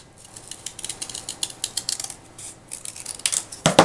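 Scissors snip small paper hearts from a template in a quick run of short, crisp cuts, close up and alone, ending in a louder pair of snips.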